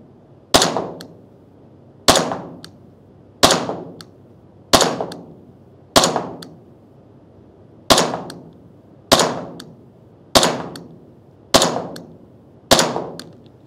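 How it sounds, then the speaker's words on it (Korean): A Glock pistol set up as an open-class race gun is test-fired in a slow, even sequence of ten sharp, loud shots, each with a short ringing decay before the next. "사격을 한번 해볼게요"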